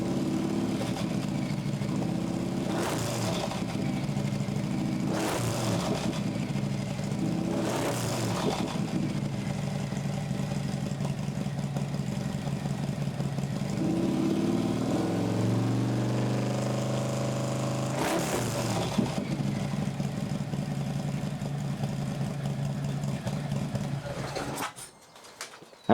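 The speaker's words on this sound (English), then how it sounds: "that was the sound of the Bassani pipe" A motorcycle fitted with a Bassani exhaust pipe idles with a steady low rumble, broken by four sharp throttle blips and a longer rev that settles back to idle before the engine is shut off.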